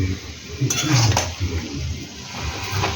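Fish-head and taro dish being stirred in a pan after sugar is added, with metal utensil scrapes and clinks against cookware, close and clear over a low background hum.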